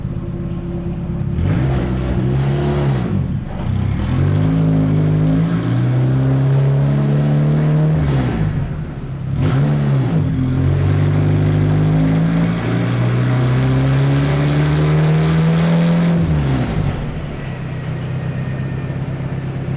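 A car engine revs hard and loud on a dyno pull in repeated rising pulls, each climbing in pitch then dropping off, a sustained mechanical roar with no talk.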